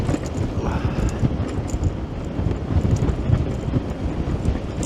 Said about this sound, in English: I think the wind's blowing towards me.